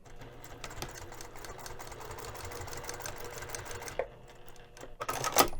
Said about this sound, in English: take this over to the sewing machine and stitch this down using 1/8 of an inch seam allowance